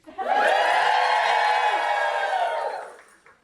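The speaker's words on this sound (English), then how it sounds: "And then we can practice cheering." Children cheer together at a hospital celebration, a loud sustained burst of shouting and whooping that rises sharply and fades after about three seconds.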